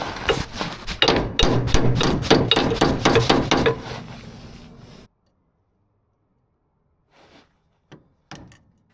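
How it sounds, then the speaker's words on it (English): A hammer strikes a chisel held in grips to bend a lock washer on a Land Rover Defender TD5 steering part: about a dozen quick, ringing metallic blows, close and loud, then silence and a few faint knocks. "holding the chisel within a pair of grips. As you can see here, I've managed to bend the lock washer over enough."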